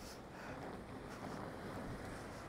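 Wind gusts rumble and buffet the microphone in a steady broadband roar on a walk along the seaside in São Roque, Ponta Delgada, in the Azores, continuous and fairly loud with no speech.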